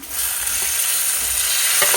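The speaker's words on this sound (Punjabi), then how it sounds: "ਤੜਕਾ ਭੁੱਜ ਕੇ ਸਾਡਾ ਹੋ ਗਿਆ ਤਿਆਰ ਤੇ ਅਸੀਂ ਹੁਣ ਵਿੱਚ ਪਾ ਦੇਣਾ ਆ ਜਿਹੜਾ ਬਣਾਇਆ ਸੀ ਪਨੀਰ" Paneer going into a roasted tadka in a pan gives a loud, dense, continuous sizzle close up, steady for the whole moment with no voices.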